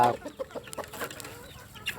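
Free-range village chickens clucking during morning feeding with herbal supplements, scattered short clucks and calls at close to moderate distance over a faint background.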